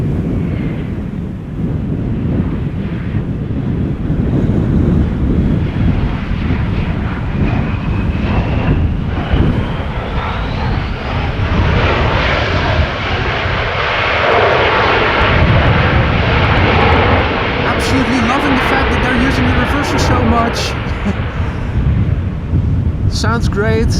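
Narrow-body airliners arrive at Amsterdam Schiphol Airport on a breezy day after a storm, their loud continuous jet roar swelling and fading over gusty wind buffeting the microphone.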